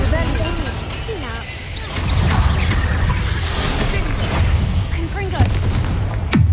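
Confringo blasting-spell explosions thump and crash in Hogwarts Legacy combat, several booming hits with whooshing magical effects spread across the scene, loud and close, amid other battle noise and voices.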